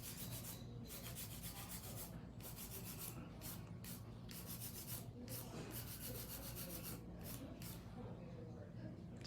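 A hand file rubs quickly back and forth over acrylic nails, giving a close, steady scratchy rasp in rapid strokes with brief gaps, and no talk over it.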